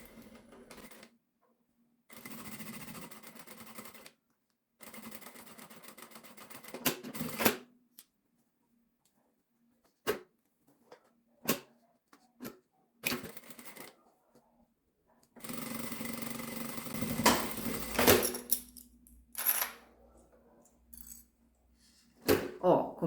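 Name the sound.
sewing machine backstitching a bag strap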